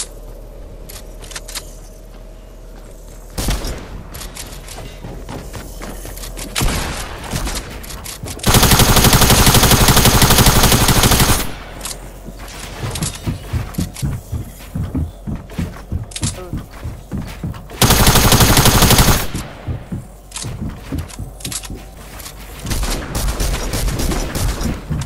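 Rapid bursts of SMG fire in the video game Fortnite, crackling in quick repeated volleys with two long, loud sustained stretches of continuous noise in between, and voices talking over parts of it.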